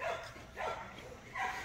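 A female bulldog-type dog, twelve days after giving birth by cesarean, lets out three short, close barks in quick succession, each strong and punchy against a little room noise.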